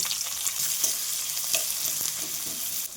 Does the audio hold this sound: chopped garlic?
yes